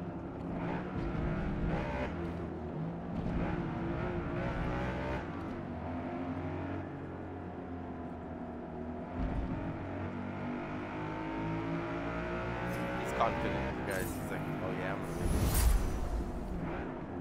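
A BMW and an Audi race in Forza Motorsport, engines droning and shifting pitch continuously with revving swells, while a voice talks over the car sounds.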